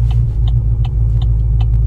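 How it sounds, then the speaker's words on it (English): A Chevrolet SS with a Whipple supercharger rumbles loudly from close by, a deep steady engine drone with faint rhythmic ticking above it. "first drive with the Whipple Supercharger on my SS"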